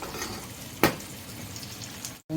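Food frying in a pan gives a steady, soft sizzle with a sharp crackling burst near the start, then continues briefly after a short gap.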